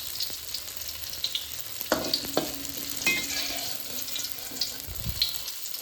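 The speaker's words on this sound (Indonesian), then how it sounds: "Kita goreng dulu baksonya sebentar nanti ya" Bakso meatballs sizzle steadily in hot oil, a dense, continuous crackle close by, punctuated by a few sharp utensil clinks and stirring knocks.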